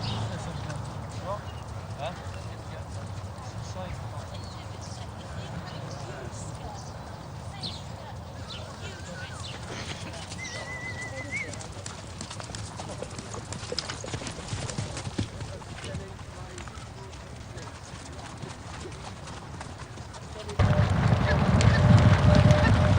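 English racehorses at a racing centre clip-clop with steady, moderately distant hoof falls over a continuous background, with a brief whinny, and a louder rumbling swell near the end.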